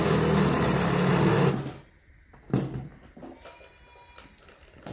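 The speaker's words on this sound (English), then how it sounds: "I'm going to use a spade bit just to go part of the way down in the wood to inset the bolts" Spade bit drilling part way into wood to inset bolts: a loud, steady motorized whir for about a second and a half, then it stops, followed by quieter scattered handling knocks.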